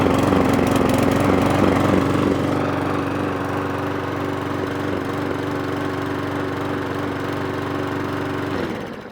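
Small lawnmower engine idling steadily after a carburetor clean, a close, even mechanical drone with a low rhythmic pulse that holds level for about nine seconds before cutting out abruptly at the end.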